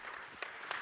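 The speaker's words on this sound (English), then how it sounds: "Round of applause." Conference audience applause at a DevOps event as sponsors are invited on stage, a brief, fairly faint patter of clapping from the hall.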